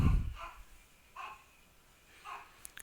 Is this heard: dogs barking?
yes